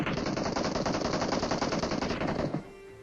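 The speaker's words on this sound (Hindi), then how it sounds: "उस तरफ से फायरिंग आ रही है" Automatic gunfire in a shooter video game: a rapid, continuous burst of loud, evenly spaced shots for about two and a half seconds, then a sudden stop leaving a quiet tail.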